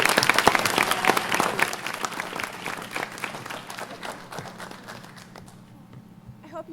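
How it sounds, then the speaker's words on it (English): An audience at a TEDx event at East Brunswick High School bursts into loud, sustained applause that gradually thins out toward the end, with some murmuring in the crowd. "please give a huge round of applause to Ms."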